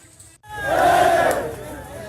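A protest crowd outside the US embassy in Lebanon lets out a loud surging roar of massed yelling after a brief quiet gap, the shouting swelling and then easing.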